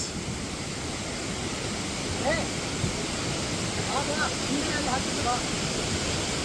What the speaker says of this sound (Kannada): ಇದೆ ಫಾಲ್ಸ್